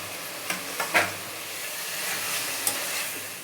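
Chicken pieces frying with spices in a pan for a Bengali dalia dish, a soft steady sizzle broken by a few scraping stirs and small clinks.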